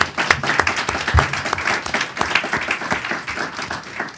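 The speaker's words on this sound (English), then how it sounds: "I'd like to invite a round of applause to the panel." Audience applause for a panel at a Washington, D.C. policy event on Afghanistan, steady, dense clapping from a room of people sustained across the whole stretch with no talk over it.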